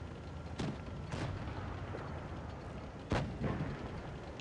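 Tank cannon fire in World of Tanks Blitz, with several booming shots spaced a second or two apart over a steady battle rumble, the last blast loudest and followed by a quick echoing crack.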